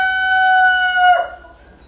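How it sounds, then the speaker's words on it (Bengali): A black tiger-breed rooster gives a single loud, close crow, one long sustained call that breaks off and trails into quiet. "এই যে মোরগটি দেখতে পাচ্ছেন, কালো মোরগটি"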